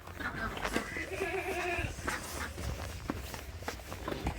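Goats in a hilly rural area of Romania, with overlapping footsteps and shuffling on the ground; one steady, drawn-out bleat-like tone rises in the middle, fairly near, under continuous outdoor background noise.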